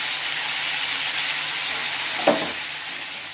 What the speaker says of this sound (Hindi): इसको अच्छे से मिला लेंगे और इसको थोड़े दो मिनट भून लेंगे।